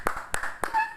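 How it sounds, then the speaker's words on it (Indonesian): Brief burst of audience applause at an Indonesian church worship service, a few loud claps forming a short ragged ripple up close. "Berikan tepuk tangan yang meriah buat Tuhan."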